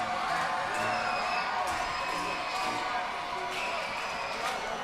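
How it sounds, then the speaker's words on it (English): Ballpark crowd noise at a minor league game between the Binghamton Rumble Ponies and Reading Fightin Phils, with two outs in the bottom of the fourth: a steady, broad murmur of fans with scattered shouts and whoops, continuous throughout. "Crowd is excited with 2 outs here in the bottom of the 4th"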